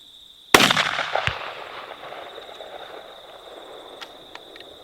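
A single sharp 300 Blackout rifle shot cracks out during a sambar deer hunt in Australian bush, loud and close, followed by a long fading echo and a steady high insect drone.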